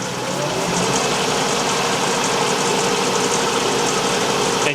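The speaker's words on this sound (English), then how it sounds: "I'm just going to go ahead and use the hollow bar and start cutting on the inside." Wood lathe spinning at about 750 RPM while a hollow bar cuts inside a deep hollow form, giving a steady, loud, continuous grinding rumble with vibration and no talking.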